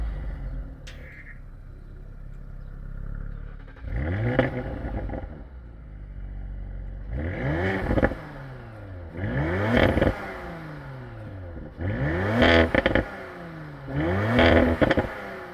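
An Audi RS4 Edition 25 engine is revved repeatedly, five loud blips rising and falling at roughly two-second intervals after a quieter idle, close by with no talking.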